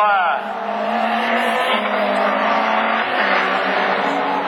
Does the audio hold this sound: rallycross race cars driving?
yes